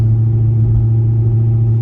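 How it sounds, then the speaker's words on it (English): A low, steady exhaust drone inside a C6 Corvette Z06 with heads, cam and AWE Touring exhaust, cruising in fifth gear at 45 mph around 1500 RPM, an even deep hum with no change in pitch. "Here's my attempted drone. We're in 5th gear at 45 miles an hour, like 1500 RPM."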